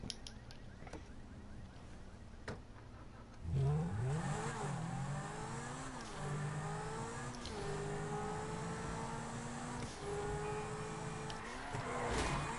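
A Zentorno sports car engine in a video game revs up sharply after a quiet start, then holds a loud, climbing engine note with several gear-shift dips and renewed surges.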